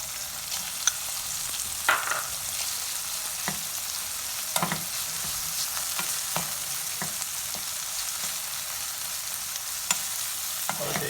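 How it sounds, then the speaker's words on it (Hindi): Chicken frying and being stirred in a pan for a bread roll filling, a steady close sizzle with occasional scraping stir clicks throughout, no voices. "और इसे 1 मिनट तक फ्राई करेंगे।"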